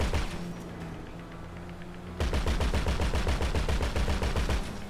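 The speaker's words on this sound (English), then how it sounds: "I'm just shooting people as we go" Rapid automatic gunfire from shooting people in GTA 5, starting after a quieter stretch and then rattling in dense, loud bursts for the rest of the clip.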